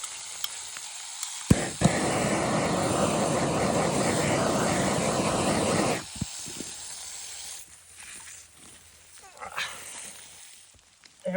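A small handheld torch roars steadily for about four seconds against a leaking water pipe, then cuts off abruptly, leaving quieter clanks and handling noises.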